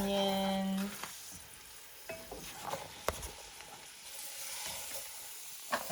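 Chopped green onions, green peppers and celery stirred into a roux in a Dutch oven for seafood gumbo, a brief tonal sound at the start, then a quiet sizzle broken by soft scraping stirs and a few knocks.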